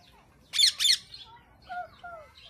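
At a zoo, a bird gives two loud harsh squawks close by, followed by softer whistled calls, with a faint murmur in the background.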